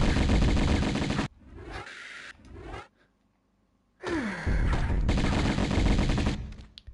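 Rapid gunfire from a Tomb Raider I Remastered boss fight against the third ruler of Atlantis, loud sustained bursts broken by a short quiet gap, then firing resumes with a gasp-like vocal sound.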